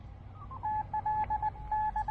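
Superheterodyne receiver audio from the speaker of an Elecraft KH1 handheld radio, carrying a steady Morse-like tone in repeated short and long beeps over a soft, low hiss.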